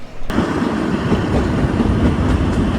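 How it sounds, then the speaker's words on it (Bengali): The Shivalik Deluxe Express toy train on the Kalka–Shimla line pulls into Barog station with a steady, loud rumbling roll and faint clicking. There is no talking. "আমাদের ট্রেন তার সেকেন্ড হল্টে এসে পৌঁছালো বারোগে"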